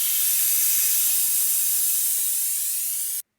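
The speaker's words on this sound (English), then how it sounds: "So I suck the old fluid out of the reservoir" Old brake fluid being sucked out of the reservoir of a Porsche Cayman S 987, a steady close airy hiss of suction that holds for about three seconds, then cuts off abruptly.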